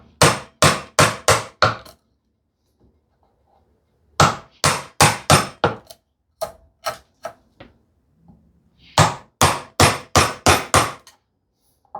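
Mallet blows drive a 1-inch chisel into wood along a knife wall: sharp, close knocks come in three rhythmic bursts of four to six strikes each, with quiet pauses between them and no talking.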